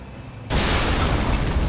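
A sudden loud explosion in the video game Elden Ring Nightreign bursts in after a quiet moment and sustains as a dense, noisy roar to the end.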